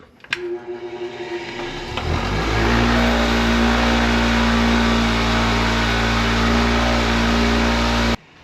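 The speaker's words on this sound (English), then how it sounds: "I'm going to bench grind these and clean them up a little bit" After a sharp click, a bench grinder used to clean up metal parts spins up to a loud, steady whine. The whine holds evenly for several seconds and then cuts off abruptly.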